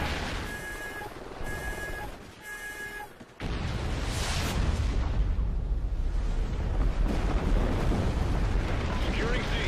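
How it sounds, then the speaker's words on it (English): KEM strike explosions go off in the video game Call of Duty Ghosts: a short run of electronic alert tones, then a deep, heavy blast that rolls into sustained rumbling debris and crackle, loud and close. "I'm going to let you guys go with a few KEM strikes going off"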